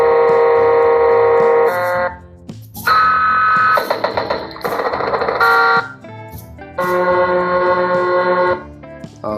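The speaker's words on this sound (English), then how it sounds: "So these are horn sounds, right? So this I can select different type of horn sounds." Electronic horn tones from an Orlandoo Hunter Scania RC truck sound module, loud and synthetic, playing in several sustained blasts with brief gaps as different horn types are selected in turn.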